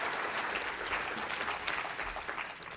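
An audience at a social impact investing talk breaks into steady applause, a dense wash of many hands clapping that holds fairly even before easing slightly toward the end.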